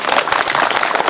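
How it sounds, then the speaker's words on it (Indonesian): Audience applause at a Balinese bondres comedy performance held during a temple ceremony: a dense, steady burst of many hands clapping together, fairly loud and continuous for about a second with no clear voices. "Aman cocok tepuk tangan gitu."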